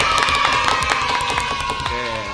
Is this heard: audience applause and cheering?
yes